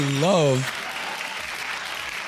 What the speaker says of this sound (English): Big round of applause at that.